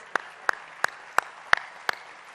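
Six sparse, evenly spaced hand claps from one or two people at an annual event, sharp and fairly faint against a quiet room.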